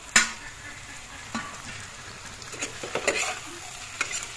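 Small fish dropped into a pan of softened tomatoes give a quiet steady sizzle, with a sharp splash at the start and scattered stirring clinks and spatters through the rest.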